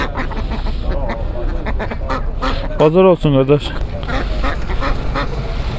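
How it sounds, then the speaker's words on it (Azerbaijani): Ducks at an outdoor poultry market in Mashtaga let out a short, loud run of nasal quacks mid-clip over constant crowd chatter, and someone speaks nearby. "Səsli ördəklər 9 manatdan."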